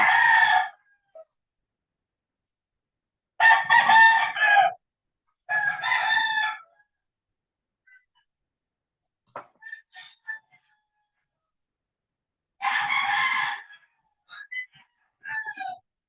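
Several rooster crows ring out one after another with pauses between, clear and fairly close, followed by a few faint short clucks.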